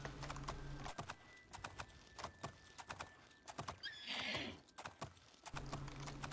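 A modded horse in the video game Oblivion clip-clops in rapid, close hoofbeats and gives a whinny midway, set over a low droning game background.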